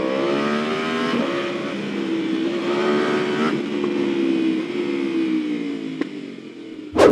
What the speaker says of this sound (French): Oh là là, par contre, Zig, la sonorité du R1, mais alors on retrouvera ça